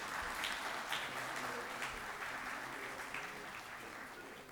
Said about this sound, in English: I want a big round of applause for him.